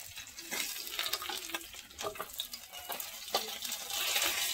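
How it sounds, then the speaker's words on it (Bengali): Folui fish sizzling in a frying pan, a steady crackling hiss with stirring scrapes and occasional louder pops, close and with no talk. "দেখো বন্ধুরা মাছগুলো ভাজা হয়ে গেছে,"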